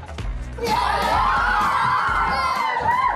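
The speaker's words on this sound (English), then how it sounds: "Just start screaming and jumping up and down now." A group of children screaming, cheering and jumping up and down at a dance studio, a loud sustained wall of shrieks and whoops that swells after a brief start.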